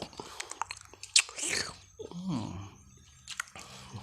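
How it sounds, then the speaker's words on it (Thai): Close, loud biting and wet chewing on grilled giant cichlid fish, with crunchy bites and mouth noises in irregular bursts, plus brief vocal murmurs between mouthfuls. "ผมมากินคำใหญ่ๆ เลยมันอร่อยดีนะครับ"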